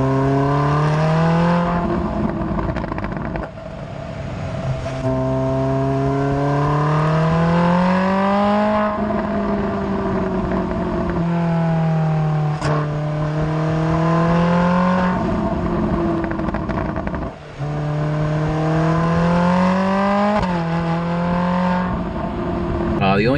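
A completely stock Ferrari 458 V8, ride height lowered slightly, revs repeatedly toward 9,000 RPM through its factory exhaust, rising and falling in several long sweeps that stay loud and close throughout.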